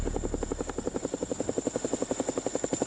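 A Boeing CH-47 Chinook military helicopter with turboshaft engines thumps steadily, its rotor blades beating in a fast, even rhythm over a constant high whine, loud and close.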